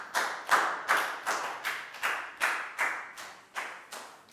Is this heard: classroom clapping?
yes